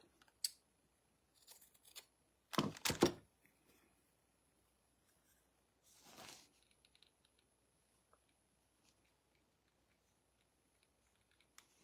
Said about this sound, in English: now I have some scissors to cut.